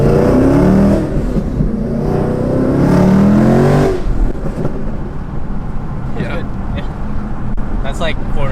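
A supercharged S550 Mustang GT V8 revs at quarter throttle, rising and falling in loud, close sweeps for the first few seconds before settling to a rough idle with scattered clicks.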